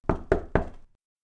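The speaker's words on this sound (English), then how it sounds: "she heard the knock on the door" Three firm knocks on a wooden door in a children's puppet theater story, evenly spaced and close, ringing out alone before silence.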